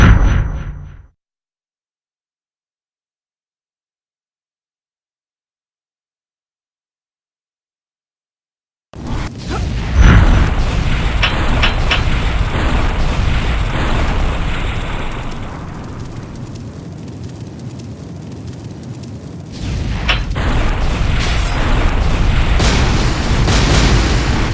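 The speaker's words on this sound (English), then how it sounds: "A stream of fireballs prevents anyone from going further." In a fantasy video game, a fireball trap spews a steady roaring, booming stream of flame after a long silence, with the rumble easing briefly before swelling again.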